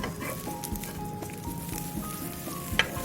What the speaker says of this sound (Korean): 우그라들지 않게 꾹꾹 눌러가며 초벌구이를 합니다.